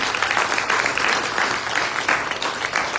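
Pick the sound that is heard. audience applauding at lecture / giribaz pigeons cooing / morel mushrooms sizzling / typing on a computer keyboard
audience applauding at lecture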